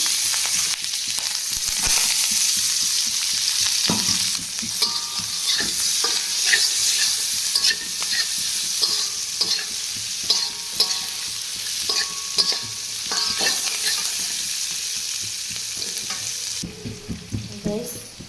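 A cinnamon stick and whole onion crackling in hot oil in a kadai, steady close sizzle with intermittent stirring scrapes and small clinks, continuing alone without voices until a brief shift near the end.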